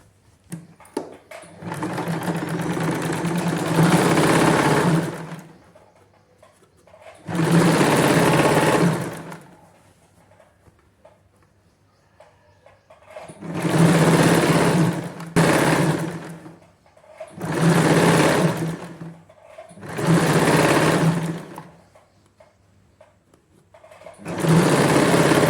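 An electric sewing machine stitches a palazzo pant seam in several bursts of a few seconds each, its fast motor whir starting and stopping with short pauses between, close and loud with no talking.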